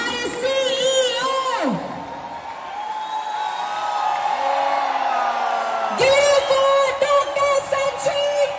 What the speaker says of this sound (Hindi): Ladies and gentlemen, दोनों हाथ ऊपर, जोरदार तालियां।